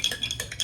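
Batter flavored with vanilla essence is stirred briskly in a bowl, giving quick, rhythmic clinking scrapes of utensil against the bowl, about six strokes packed into under a second, close and clear.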